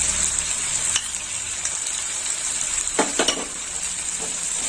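Poppyseed paste fries in spiced oil for a fish curry, a steady close sizzle with a few sharp clinks of a utensil against the pan, and no talking.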